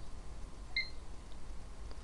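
A desktop computer gives a single short, high electronic beep as it powers up, quiet and brief over a low background hum.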